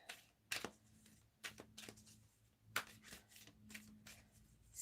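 A deck of reading cards is shuffled in a few sharp, brief riffles and flicks, close and soft, separated by quiet gaps.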